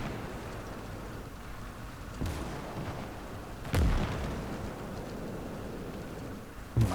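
A field gun firing high explosive shells in the World War II strategy game Gates of Hell, with a few heavy booms spaced seconds apart over a low rumbling battlefield background.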